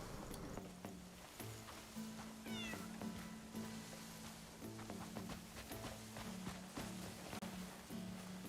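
A black cat in a video game gives a run of clear, close meows, one after another in a loose rhythm, over low ambient game sound with light pattering steps.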